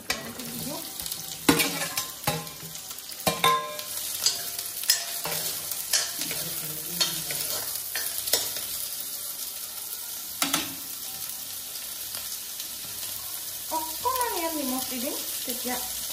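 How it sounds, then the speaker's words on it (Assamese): Onion and garlic fry in oil in a wok, giving a steady close sizzle broken by repeated sharp scrapes and clatters of stirring. Quieter stretches let the hiss come through. "মই কেৰাহীত অকন তেল দি পেলাই এই পিয়াজ আৰু নহৰু কনো অকমান ফ্ৰাই কৰি পেলাই"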